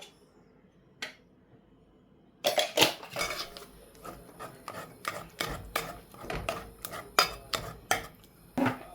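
A spoon clinks and scrapes against a pan while cardamom powder is stirred into puran poli filling. After a quiet start, a close, steady series of sharp metallic taps and scrapes follows, with no talking.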